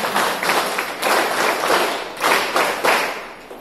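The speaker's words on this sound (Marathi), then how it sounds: "जोरदार टाळ्या वाजवा बघू एकदा यांच्यासाठी." An audience at a health programme claps loudly for Asha workers, bursts of hand-clapping rising and fading in several waves, close and full.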